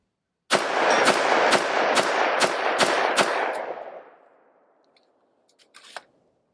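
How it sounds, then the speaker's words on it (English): A MARCK-15 Hydra rifle fires a rapid string of seven loud shots at an even pace downrange. The reports ring out and decay, followed by faint metallic clicks. "just shoot down range and see if the rifle cycles all the rounds"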